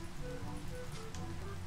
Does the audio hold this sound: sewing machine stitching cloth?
no